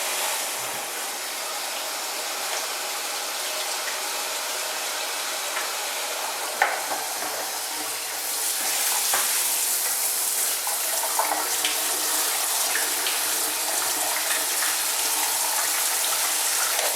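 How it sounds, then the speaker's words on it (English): Water from a tap runs in a steady, hissing stream indoors during at-home pet care, growing louder and fuller partway through as the flow increases, with a few faint knocks and no voices. "Now I have to turn on the water, get it to a comfortable temperature."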